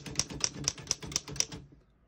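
Keys striking on a 1919 Oliver No.9 antique typewriter, six crisp, evenly spaced clacks in quick succession, close and clear, then a short quiet tail.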